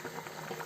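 An omelette curry with spinach bubbles in a pot, a soft steady simmering burble heard close up with no voices.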